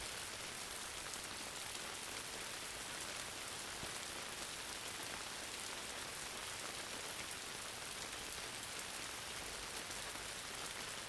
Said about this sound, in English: Let the sounds of the rain on the roof of the tent lull you more into sleep.